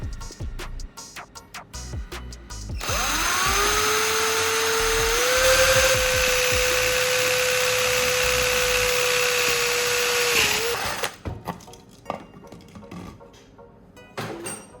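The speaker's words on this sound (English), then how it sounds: "Drill a hole in the bottle cap." Power drill boring a hole through a plastic bottle cap, a steady high whine that holds for about eight seconds before spinning down, close and loud with scattered handling noise around it.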